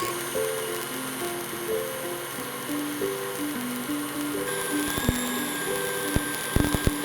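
An electric mixer whips egg whites for meringue with a continuous whirring drone under background music, and a few sharp clicks near the end.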